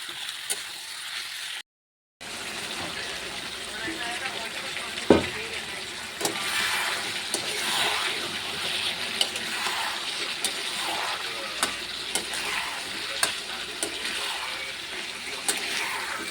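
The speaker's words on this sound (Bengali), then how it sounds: "ঢেলে জল চলো এইভাবে আমি চিকেনগুলোকে কষিয়ে নিচ্ছি" Chicken sautéed with potatoes in a pan after water is added, a steady close bubbling sizzle with scattered clinks of stirring, broken by a brief silence near the start.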